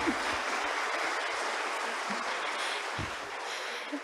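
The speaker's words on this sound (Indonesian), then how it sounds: "Kita berikan aplaus untuk Pak Dekan." Audience applause for a university dean at a new-student welcome ceremony, a steady wash of clapping from a large crowd that holds at an even level throughout.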